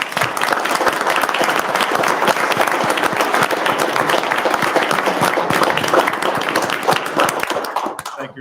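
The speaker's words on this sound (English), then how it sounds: "Thank you very much for that round of applause." A steady round of applause fills a room for several seconds, dense and even, with a crowd clapping together at close range before it thins and stops at the very end.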